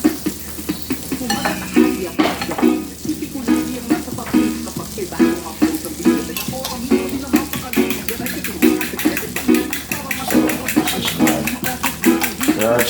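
Egg mixture for a steak and cheese omelet sizzles and fries in a pan, a steady close crackle with repeated stirring and scraping strokes, while someone talks over it.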